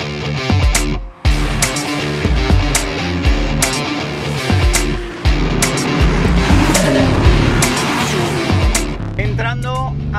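BMW M3 CS driven on the Spa-Francorchamps racing circuit, its engine loud and close from onboard, revving up and dropping through repeated gear changes.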